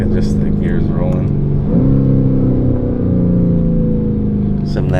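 A 2025 Lamborghini Urus engine downshifts while driving, a loud steady drone that shifts pitch partway through, heard under talk at the start.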